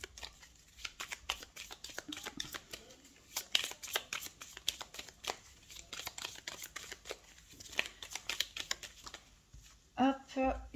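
Lenormand cards drawn one by one from a deck and laid down, giving soft repeated card-handling clicks and shuffles close up, with a few quiet spoken remarks between them.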